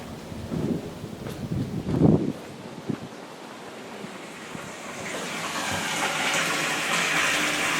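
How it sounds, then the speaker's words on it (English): Water from an aquarium is pumped out into a big container, a rising rushing, splashing hiss that builds and steadies over the second half after a few bumps and knocks. "To do so, I'm going to pump the water out and into a big container outside"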